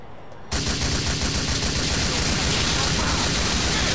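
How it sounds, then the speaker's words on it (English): Assault rifle gunfire in the video game GTA 4: a loud, continuous burst of rapid automatic shots beginning abruptly after a brief quiet moment and hammering on without pause. "I got an assault rifle"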